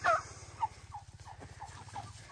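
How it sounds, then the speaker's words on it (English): Domestic turkeys being herded to roost in the evening gobble and chatter close by, a loud burst of gobbling followed by a string of short clucks and yelps over a low rumble. "I just have to put my turkeys away now."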